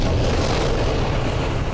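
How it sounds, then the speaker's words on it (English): An explosion in Alien Isolation gives a loud, dense, sustained roaring rumble that fills the whole moment without a clear start or fade, close and heavy, with no talking. "Oh, good, that was the explosion."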